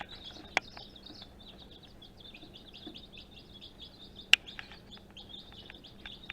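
Three-day-old Cinnamon Queen chicks peeping continuously in rapid high chirps, close but soft, with a couple of sharp clicks over a faint steady hum.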